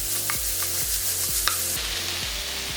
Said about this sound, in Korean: 분말 스프, 고춧가루 1스푼 넣고 볶아서 양배추가 숨이 죽으면